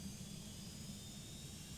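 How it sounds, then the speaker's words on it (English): Phenom 100 jet engines spool up in the Prepar3d flight simulator, giving a steady, faint turbine whine over a constant low roar with no talking. "You'll hear the engines are just firing up actually."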